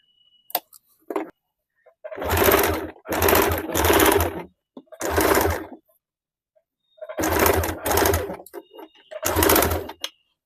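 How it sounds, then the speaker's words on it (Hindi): A sewing machine stitches a blouse seam in a series of short, close, rattling runs broken by brief stops, with a few faint clicks from the machine between bursts. "मैं ये सिल के बता देती हूँ।"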